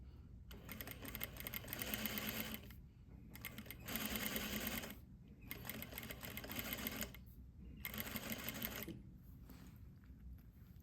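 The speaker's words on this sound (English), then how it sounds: "I will continue to sew" Sewing machine stitching a front placket on a garment: four steady runs of fast, even mechanical whirring, each a couple of seconds long and separated by short pauses, close and moderately quiet.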